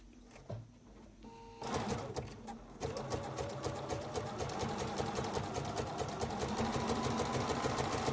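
Bernina sewing machine stitching along lace under a guide presser foot, starting with a few hesitant stitches, then settling into a steady, fast, close mechanical whirr and needle clatter that runs continuously to the end.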